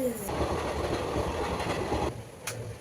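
A train rumbles past nearby with steady rattling and clattering of wheels, fading toward the end.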